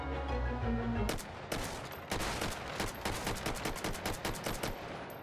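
AK-5C rifle fired in the VR shooter game Hot Dogs, Horseshoes & Hand Grenades: after a steady hum, single shots then a rapid, evenly spaced burst of loud, close gunfire.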